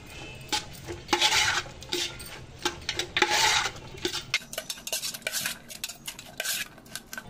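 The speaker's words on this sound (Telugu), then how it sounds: "ఇక్కడ స్పూన్తో కలుపుకుంటున్నాను" A spoon mixes bhel puri in a bowl with steady scraping, rubbing and clinking strokes, close and clear, and no talking alongside.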